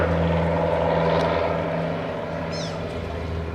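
A steady propeller engine drone from a vintage airplane flying overhead at an air show, holding for a few seconds, loud at first and easing slightly as it continues.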